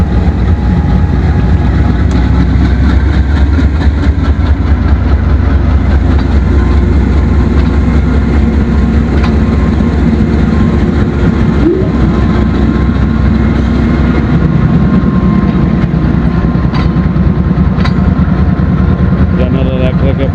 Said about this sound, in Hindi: जनरल इलेक्ट्रिक के प्राइम मूवर की मखसूस हरकतें।